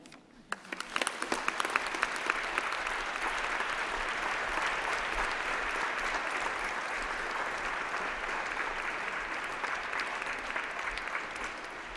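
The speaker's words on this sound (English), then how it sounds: "shall we have a round of applause for all those special people who are celebrating here with you today?" Applause from a large crowd at a university graduation ceremony swells quickly after a few scattered claps and holds as a dense, even clapping for the rest.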